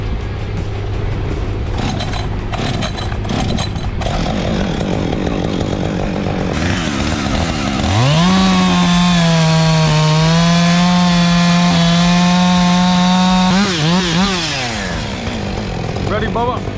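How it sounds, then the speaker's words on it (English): A chainsaw bench-cuts a massive log, the engine rising to a loud, sustained high-revving whine as it bites into the wood, then revving and dropping off, up close throughout. "Connor, I'm gonna bench cut this one."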